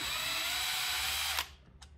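Power tool backing out screws from an iRobot Roomba 650 robotic vacuum, a close, steady high whirring drill run that stops abruptly, followed by a short second burst.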